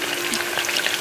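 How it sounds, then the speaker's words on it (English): Continuous sizzling and crackling of potatoes frying in a pan, a steady hiss up close. "So I have these frying and my frijoles are almost done"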